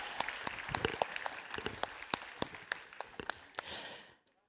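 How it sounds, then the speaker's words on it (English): A round of applause at the Smiley Charity Film Awards, a modest crowd clapping with distinct individual claps that die away abruptly after about four seconds. "can we have another round of applause for her?"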